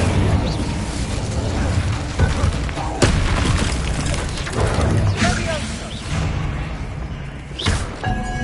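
Incendio fire spells erupt in Hogwarts Legacy amid grassy catacomb surroundings, a loud sustained roar of flames punctuated by heavy thumps and booms, with game sounds layered throughout.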